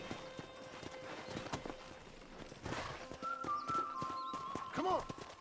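Horse hooves clip-clop at a walking pace in the video game Red Dead Redemption, with a brief whinny and some background music.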